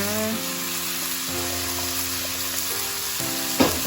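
Stink beans (sato) stir-fry with fresh shrimp in a hot pan, a steady close sizzle running under a sustained musical tone, ending with a short clatter near the end.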